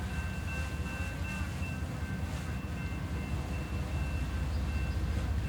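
An intermodal freight train at Chesterton rumbles steadily as it gets rolling, a constant low, heavy drone of rail cars with a faint high whine running through it and no voices.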